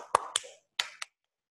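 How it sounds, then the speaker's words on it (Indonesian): Four sharp, separate hand claps of an Indonesian scout clapping routine (tepuk pramuka) land in an uneven rhythm, close and fairly quiet, then stop into silence. "tepuk pramuka tiga kali tepuk pramuka"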